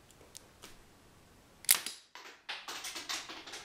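A Lego crossbow bolt hits its target with one sharp snapping crack, followed by a quick run of lighter clicks and rattles up close.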